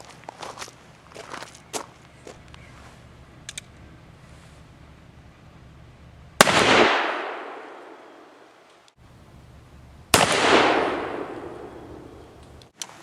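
Two loud, sharp shots from a 7.5-inch-barrel Ruger Old Army black powder revolver loaded with 255-grain Kaido conicals and 30 grains of Goex, each blast followed by a decaying roar, preceded by light handling clicks.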